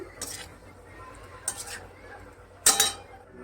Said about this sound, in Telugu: నేనైతే మిక్సీలోకి తీసేస్తున్నాను.